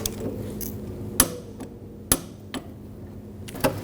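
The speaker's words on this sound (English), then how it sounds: "And torque this one down to 23 foot-pounds." Fuel tank strap bolt on a 2014-2020 Nissan Rogue being torqued with a wrench, a few sharp metallic clicks and knocks spaced apart, close and fairly loud over a low background hum, with no talk.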